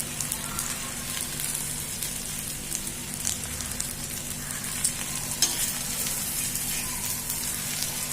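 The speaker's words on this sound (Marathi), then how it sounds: "मंद गॅसवर चांगलं शेकून द्यायचं आणि थोडंसं साईडने तेल सोडायचं" Food shallow frying in a little oil over a low gas flame: a continuous soft, close sizzle with fine crackling pops and a faint low hum underneath, with no talk.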